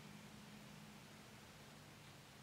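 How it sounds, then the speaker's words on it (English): An MSA 30x sound amplifier emits a steady, continuous broadband hiss with a faint low hum underneath, unchanging and quiet throughout. "It's a louder hissing sound now."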